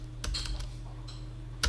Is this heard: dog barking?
no